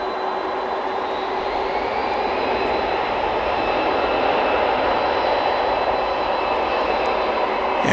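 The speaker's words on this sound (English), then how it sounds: "that particular aircraft dates back to the year 2005. Airbus A300 F4." A UPS Airbus A300 F4 cargo jet from 2005 at DFW airport, a loud, continuous engine roar with a broad rushing hiss and a faint steady whine, holding constant throughout.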